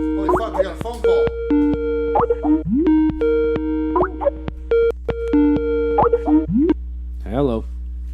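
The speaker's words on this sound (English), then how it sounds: "Holy fuck, we got a phone call." Incoming phone call signal, tonal electronic beeps in repeated short bursts, loud and close, interleaved with people talking over it.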